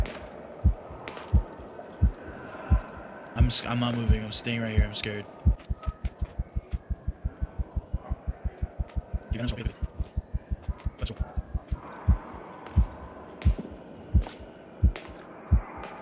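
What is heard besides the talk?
heartbeat sound effect in video game Medusa's Labyrinth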